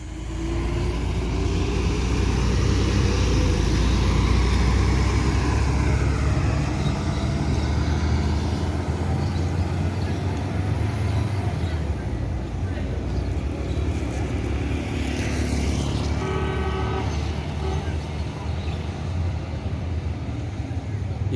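A Gumarang Jaya bus engine rumbles loudly and continuously alongside road traffic, a heavy low drone that eases slightly partway through.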